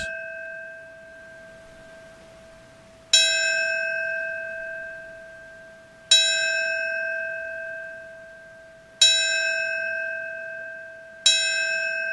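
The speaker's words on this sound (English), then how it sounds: "you'll hear the bells tolling for the victims" A deep church bell tolls slowly and alone for terrorism victims, four strikes spaced about three seconds apart, each ringing out and fading into the next.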